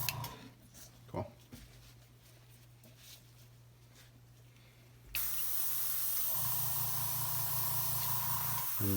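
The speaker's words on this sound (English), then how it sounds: "then finish spraying out here." Quiet room sounds and a brief knock, then a sustained airbrush hiss starts up, spraying paint steadily and loudly until the end.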